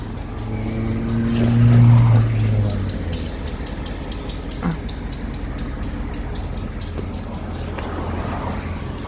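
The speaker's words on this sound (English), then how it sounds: "The train is literally right underneath me." A train rumbles past directly beneath a bridge, a loud low drone swelling for the first few seconds and then settling into a steady rolling roar with metallic clatter.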